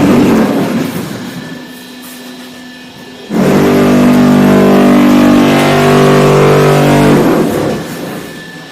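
A motor-driven construction machine engine runs, first a lower rumble, then starting up abruptly into a loud, steady droning roar that holds for several seconds before easing off, with no talk.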